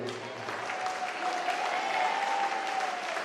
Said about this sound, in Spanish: vamos a darle un fuerte aplauso a él